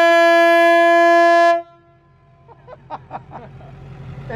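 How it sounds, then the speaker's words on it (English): A loud train horn mounted on a truck blasts one long, steady, multi-toned note for about a second and a half at a truck meet, then cuts off, leaving faint clatter and chatter. "New train horn."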